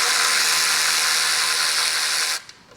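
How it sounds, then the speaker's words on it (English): A power ratchet removes the belt cover fasteners on a Vespa GTS 250/300 scooter. It gives a steady, loud whirring hiss for over two seconds, then stops abruptly, with no voices. "I got a nice power ratchet, make the job easy."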